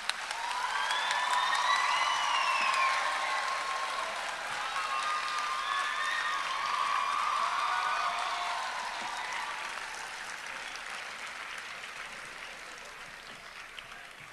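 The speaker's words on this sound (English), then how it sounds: "A big round of applause." Audience at an Indian high school convocation applauds outstanding students, broad sustained clapping from a large crowd with faint cheers and whistles on top, slowly tapering off.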